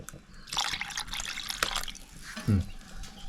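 Water is poured over fish in a pot, giving a close, trickling splash with drips that swells and then tapers, while a voice talks briefly near the end.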